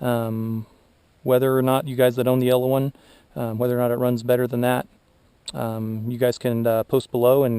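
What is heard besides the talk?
None of the usual background noises is heard.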